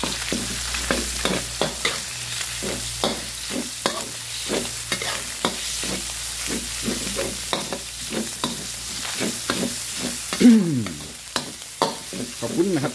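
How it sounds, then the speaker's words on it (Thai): Pork belly stir-frying in a pan for bamboo shoot stir-fry, a continuous sizzle punctuated by many quick rhythmic scrapes and clanks of a spatula stirring, with a brief louder knock near the end. "ใส่หมูสามชั้นไปนะครับ"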